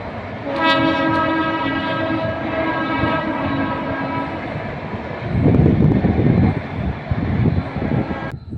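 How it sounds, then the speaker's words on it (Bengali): A passing train near a level crossing sounds a long, loud horn with steady harmonic tones for about four seconds, then the heavy rumble and clatter of the carriages rolls on, ending abruptly. "ওই দেখো ওখানে ট্রেন আসছে"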